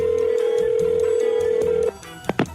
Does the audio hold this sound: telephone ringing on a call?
yes